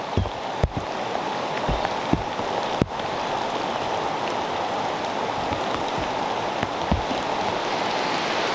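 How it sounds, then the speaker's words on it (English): Heavy rain pours steadily outdoors at a national park fishing spot, a dense even hiss of drops with occasional sharp close taps and splashes, no voices. "It's really raining now."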